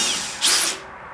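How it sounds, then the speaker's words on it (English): A small 7/64 drill bit bores a hole, giving a brief, close, high-pitched whir that peaks for a fraction of a second and then winds down. "I took this small drill, 7/64, I drilled 2 holes"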